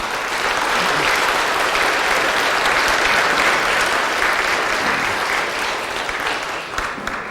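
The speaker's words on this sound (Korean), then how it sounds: "여러분들 환영의 박수 부탁드립니다." A church congregation gives sustained, dense applause in welcome during a Sunday worship service, a steady wash of clapping that holds loud for several seconds and eases slightly near the end.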